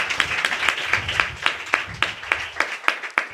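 Congregation at a Sunday church service claps in a steady rhythm, roughly three claps per second, moderately loud and fairly close, with no talking over it.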